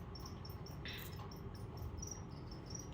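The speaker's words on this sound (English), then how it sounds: "Excuse these crickets in the background if that bothers you." Crickets chirp steadily in the background, a faint, continuous high trill with short repeated pulses running throughout beneath a low hum.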